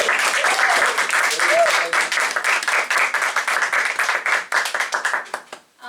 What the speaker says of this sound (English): So please, everyone, let's applause for both of